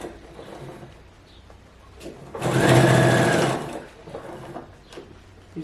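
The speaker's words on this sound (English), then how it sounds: "I am joining the front folds first." A sewing machine runs in one steady burst of about a second and a half, stitching the front folds of a long sleeveless blazer, close and clear over a quiet room.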